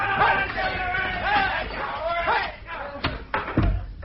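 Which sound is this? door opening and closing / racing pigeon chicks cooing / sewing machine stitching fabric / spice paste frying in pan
door opening and closing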